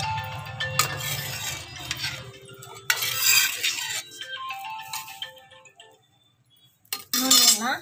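Chapati cooking on a hot pan with oil being spread over it, Muslim-style preparation: soft sizzling and scraping stir sounds with occasional metallic clinks of utensils, close and moderately loud, fading near the end before a brief clatter.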